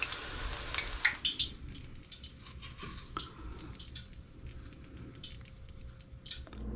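Pickles deep frying in oil, a soft steady sizzle with a few sharp pops and crackles early on, fairly quiet and close, no talking.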